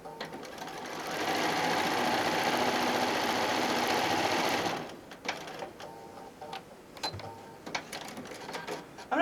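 A sewing machine stitches a quilt-as-you-go cosmetic bag in a steady, close, continuous whir for several seconds, then stops, leaving quiet clicks and handling noises.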